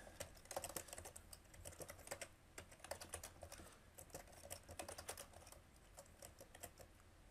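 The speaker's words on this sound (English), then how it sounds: "Okay, and I'm going to type up a query." Someone types a SQL query on a computer keyboard, a quiet, close run of rapid irregular key clicks with brief pauses.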